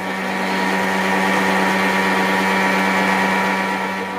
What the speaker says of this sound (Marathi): आता हे आपल्याला मिक्सर करून घ्यायचं आहे